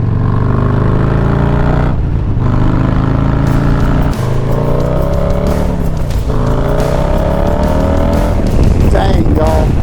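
A Low Rider ST motorcycle with a Stage 2 upgrade, heard while riding: a loud, deep engine roar whose pitch climbs and falls through repeated revs and gear changes, with constant throbbing and no pauses.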